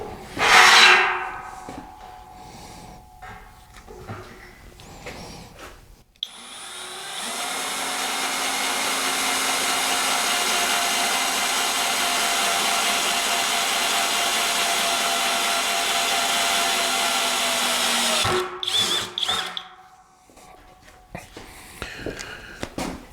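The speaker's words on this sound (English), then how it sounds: "Let me get these holes drilled out" A power drill with cobalt bits boring holes through metal on a frame jig, a steady loud whine running about twelve seconds after brief handling noises, then stopping into clatter.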